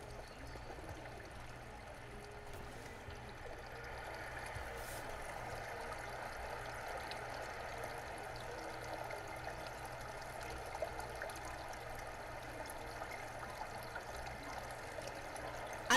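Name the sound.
flowing water in Garry's Mod video game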